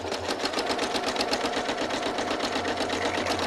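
Sewing machine running steadily while straight-line machine quilting a sampler block, a continuous close, even mechanical hum with rapid rhythmic stitching pulses throughout, no talk.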